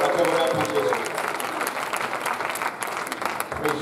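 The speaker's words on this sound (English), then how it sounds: "Clap your hands to Jesus." A church congregation claps their hands in steady, sustained applause, a dense crowd of palms ringing through the hall, with voices mixed in underneath.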